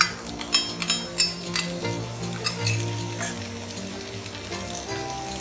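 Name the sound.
onions frying with ginger and garlic paste, stirred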